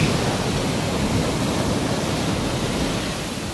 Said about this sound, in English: Look at these swells coming in.